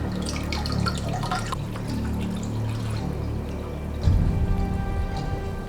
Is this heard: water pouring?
yes